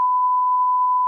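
A censor bleep, a single steady pure electronic tone held for about a second, loud and alone.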